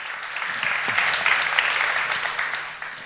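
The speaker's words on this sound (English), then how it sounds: "an applause" A crowd at a conference panel session applauding steadily for a few seconds, a dense wash of clapping with no voices on top.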